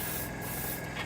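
Airbrush or spray can misting paint onto a Trumpeter Bf109K-4 model aircraft kit part, a steady close hiss running through the whole short burst without pause.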